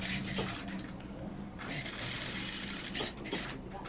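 A sewing machine stitches a V at the second dot of a blouse, a close mechanical clatter and ticking running in uneven bursts, with faint talk underneath.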